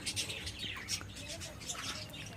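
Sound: budgerigars chirping

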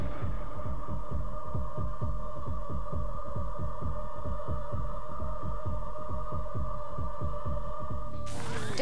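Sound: heartbeat

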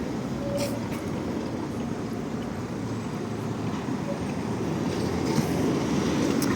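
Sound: tram passing on rails

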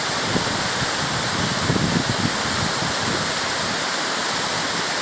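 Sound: Gürgüre waterfall, rappelling descent

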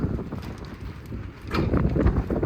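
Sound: wind blowing on a farm

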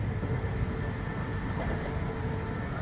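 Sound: moving train

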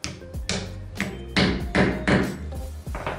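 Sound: hammer lightly tapping a PVC reducer into wood

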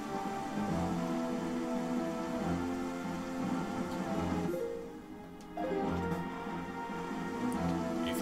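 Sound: rain in video game Wind Waker

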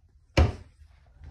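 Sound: drawer opening or closing

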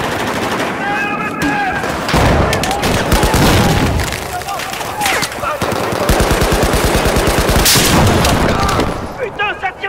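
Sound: gunfire and machine guns in a video game

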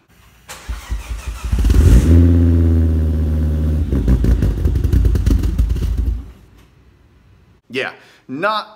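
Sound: 2005 Volvo V70R engine running now

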